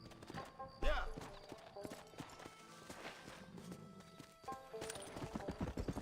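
A horse in a Western-themed video game clip-clops along in quick hoof beats, with a short neigh near the start and game sounds and faint talk layered underneath.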